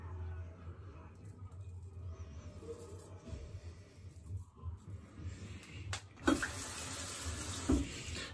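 Water runs steadily from a tap in a continuous hiss that is moderately faint and close, then grows louder and splashier near the end as something is rinsed under the stream.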